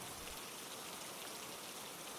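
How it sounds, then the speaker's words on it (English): Gentle rain falls steadily in a soft, even hiss, with no voices over the wash of drops. "It only rests beneath the whispering rain, where every drop is a cradle"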